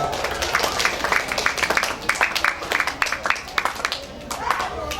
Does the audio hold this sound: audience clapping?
yes